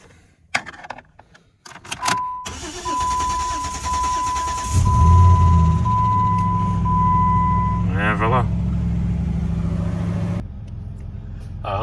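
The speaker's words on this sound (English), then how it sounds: "And now we are going to start the car." A Dodge Nitro with a 4.0L V6, just fitted with new fuel injectors, cranks briefly and catches, then settles into a steady, loud idle close by, with a tone chiming in the background.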